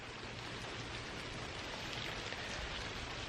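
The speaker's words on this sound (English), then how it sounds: "It's raining enough to make the ground like notably wet." Steady rain falling on the ground outdoors, with sun out and a cloud overhead, making a continuous even hiss of drops at close range with no talking.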